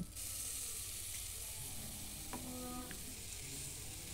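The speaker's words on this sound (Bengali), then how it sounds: "এরপর আমি যে মশলাটা তৈরি করেছিলাম সেই মশলাটার মধ্যে দিয়ে নিচ্ছি। মশলাটা দিয়েও খানিকক্ষণ আমি কষিয়ে নেব।" Spice paste frying with mutton in a pan, a steady close sizzle running throughout with a few soft stirring scrapes partway through.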